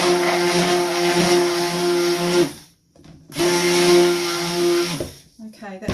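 An electric stick blender whirs through soap batter in two loud, steady bursts separated by a brief pause, with a faint voice near the end.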